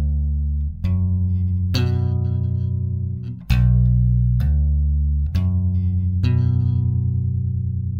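Bass guitar notes played in a sweep-picking pattern, a slow sequence of distinct plucked tones, each ringing into the next with clear attacks, loud and close with no talking.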